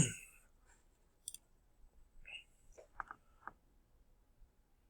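Computer mouse clicks while signing in on the Khan Academy website: a few sparse, faint, sharp clicks spread across an otherwise quiet room.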